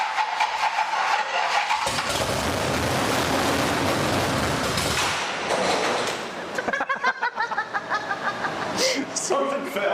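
An old drag car engine cranks repeatedly, then catches in a loud, rough burst of revving before sputtering and dying back, with rattling clanks and a voice or two near the end.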